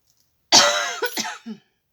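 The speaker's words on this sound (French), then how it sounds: "Oh, je tousse." A single burst of coughing, close and fairly loud, breaking into a few rough hacks before trailing off into silence.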